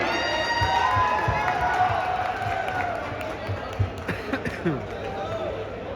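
A crowd applauds and cheers at a Murrah buffalo competition in Punjab, clapping dense at first and then thinning into scattered claps, with someone talking loudly over it.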